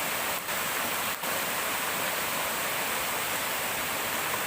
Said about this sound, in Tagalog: nandito na tayo sa paanan ng waterfalls, ng Busay Waterfalls